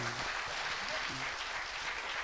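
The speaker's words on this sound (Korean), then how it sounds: "박수 한번 부탁드리겠습니다." A studio audience gives sustained, even applause for a talk show guest, the clapping quiet and continuous, with brief voices heard at the start.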